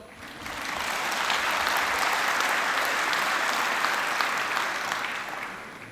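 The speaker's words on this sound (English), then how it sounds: "you can applaud." Audience applause at a university gathering, swelling in from quiet, holding steady as a dense wash of clapping from many people, then tapering off at the end, with no talking over it.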